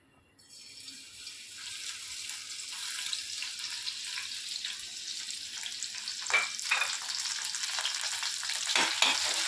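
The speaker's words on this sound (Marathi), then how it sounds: "तेल तापलं की त्याच्यात आपल्याला ही मिरची, कोथिंबीर आणि लसूण वाटलेला ठेचा तो घालायचा आहे" Chili, coriander and garlic thecha frying in hot oil, a steady close crackling sizzle that swells after the paste drops in and keeps going without talk.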